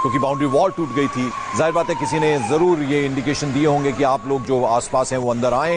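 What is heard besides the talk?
ambulance siren at plane crash site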